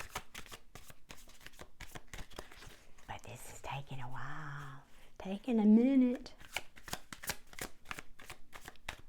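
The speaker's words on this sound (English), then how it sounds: "I have to shuffle till they say stop or until I get flyers." A deck of tarot cards is shuffled over and over during a twin-flame reading, soft rapid papery riffs and flicks running throughout, with quiet nearby speech in the middle.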